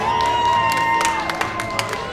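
Audience applause and cheering at a car dealership's five-year anniversary event, a dense wash of clapping and crowd noise with scattered whoops.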